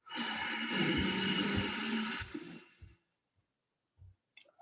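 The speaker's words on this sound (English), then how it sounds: "take a nice deep breath in and exhale" A deep breath drawn in and then let out in a long, breathy sigh during a pranayama meditation session. It is close and clear, followed by a few soft clicks and breaths, with no talk.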